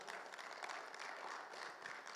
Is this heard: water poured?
no